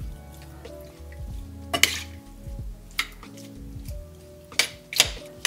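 Bagoong fried rice sauce of oyster sauce, calamansi or lemon juice, brown sugar, chili flakes and water being stirred in a pan on a stove that is switched off, with repeated clinks and scrapes of a utensil against the pan.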